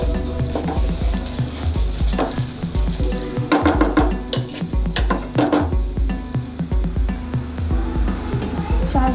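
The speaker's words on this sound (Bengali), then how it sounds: "চালটাকে 2-3 মিনিট ধরে ভাজবো" Uncooked rice for biryani fries in a dry pan over medium heat with a loud close sizzle, broken by repeated rhythmic scraping and stirring clatter against the pan.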